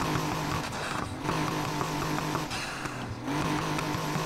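A car engine revs in the Need for Speed Heat racing game, a rough, buzzing drone held steady and loud, dipping briefly twice before surging back.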